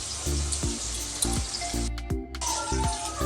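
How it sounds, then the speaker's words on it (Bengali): Cubed potatoes sizzle steadily in hot oil with salt and turmeric, a continuous frying hiss broken by repeated stirring scrapes and a short quieter dip midway. "এই আলুগুলো এবার ভেজে নেব, নুন হলুদ দিয়ে ভেজে নিচ্ছি"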